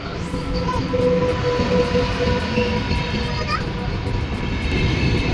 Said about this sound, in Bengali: এই ট্রেন আসছে, সি ট্রেন।